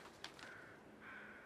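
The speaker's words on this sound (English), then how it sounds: "I hear crows" Crows cawing in the survival video game The Long Dark, two faint, distant calls over quiet ambient wind.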